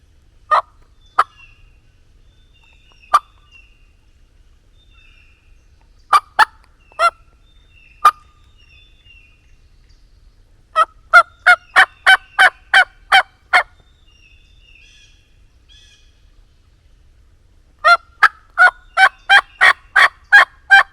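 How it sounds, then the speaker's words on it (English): A wild turkey gobbles repeatedly in a spring forest, loud rattling bursts in clusters with quiet gaps between, clear and fairly close, no talking. "it's a daggum gobbling turkey"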